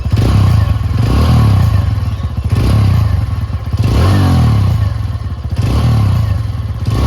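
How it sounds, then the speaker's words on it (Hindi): A 2023 TVS Radeon 110cc motorcycle idles close up, its exhaust giving a loud, steady low-pitched thumping putter with slight rhythmic swells, no talk over it. "ये इसके एग्जॉस्ट की आवाज़।"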